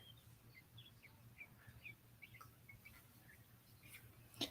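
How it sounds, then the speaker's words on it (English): Birds sing outdoors, faint scattered chirps and short tweets repeating at a distance over a quiet low hum. "There's some that are singing a beautiful song out there right now."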